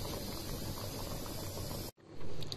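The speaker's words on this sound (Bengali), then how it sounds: "এখন আমি বাগার দিয়ে দিচ্ছি।" Hot oil tempering sizzles loud and steady over boiled spinach and lentils with green chilies, a dense crackling hiss that cuts off abruptly, then resumes more brightly.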